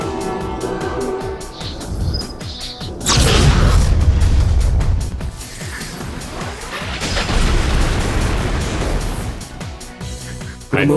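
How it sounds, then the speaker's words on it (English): Almighty-type attack from the Persona 3 Reload video game: heavy booming explosions with crashing bursts over a dense game soundtrack, a big surge around three seconds in and another swelling blast later, loud throughout. "Ultimate almighty damage to all foes, but reduce the user's HP and SP to 1."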